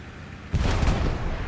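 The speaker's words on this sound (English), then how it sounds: "One explosion lands." An explosion lands in a Hell Let Loose match, a sudden heavy boom that rises out of a low background hum and then rolls away.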